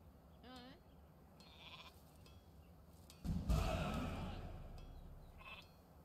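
Sheep in the strategy game Northgard give a short, quavering bleat, then a few fainter bleats follow while a person talks over louder in-game sound.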